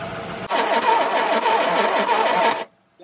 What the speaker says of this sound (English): I don't think the battery's spinning it quick enough